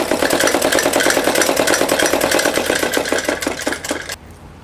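A sewing machine stitches a four-panel salwar in a fast, even mechanical chatter of needle strokes, loud and close, running steadily and then stopping abruptly near the end with no talk.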